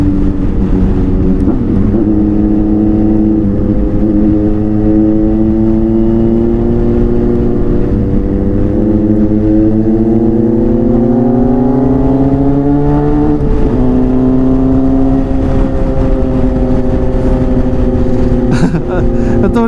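A Kawasaki Versys 1100 motorcycle rides toward a tunnel, its engine droning loudly and continuously up close, the pitch climbing and dropping through gear changes, with wind rush throughout.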